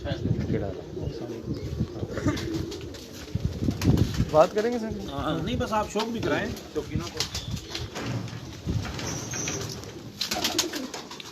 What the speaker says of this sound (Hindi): ये जी इनके जोड़ों वाले कबूतर हैं माशाल्लाह, यहाँ पे ये पेयर अप कर रहे हैं कबूतरों को